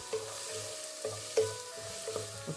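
Chopped onion sautéing in oil for potato masala bonda gives a quiet steady sizzle, broken by a few soft stirring clinks and scrapes, with no talking.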